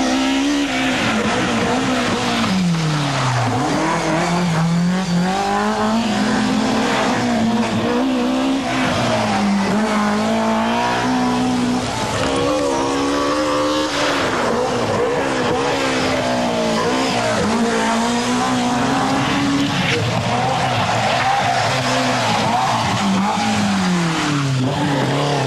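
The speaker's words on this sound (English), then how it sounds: "Just watch this for a breathtaking display of forceful driving." Rally car driven hard on a competition stage, a loud engine rising and falling continuously through gear changes and hard acceleration, with tyre noise and a constant roar that never drops away.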